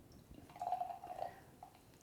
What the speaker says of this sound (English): I think I've poured just a wee bit more than you.